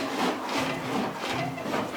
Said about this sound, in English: we got to trim the back edge too